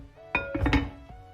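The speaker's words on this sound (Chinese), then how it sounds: "咱们盖上锅盖炖5分钟。" A metal lid set onto a cooking pot of braising cabbage and tofu, a couple of close ringing clanks and clinks in quick succession, followed by a faint final tap.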